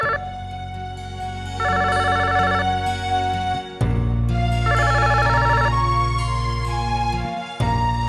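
A repeating electronic phone ring in two bursts, trilling tones sounding fairly close over a steady musical background hum.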